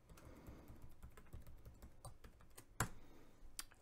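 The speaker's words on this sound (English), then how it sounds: "I got to stop pounding on my keyboard." Fingers type rapidly on a computer keyboard while logging into a password manager, producing a dense run of close, crisp key clicks with a few harder, louder strikes.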